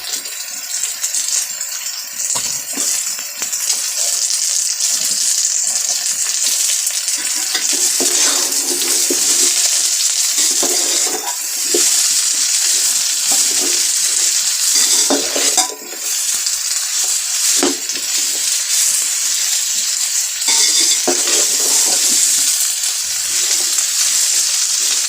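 Mixed vegetables, carrot, radish with a few radish leaves, potato and cabbage, sizzle steadily in a hot pan while being stirred, with scraping and light rattling of the utensil throughout, close and continuous with no talk.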